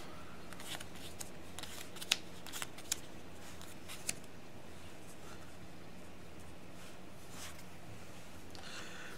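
Star Wars Legion game cards being handled and shuffled, giving soft, faint papery flicks and a few sharp little snaps over a low steady hiss, with no talking.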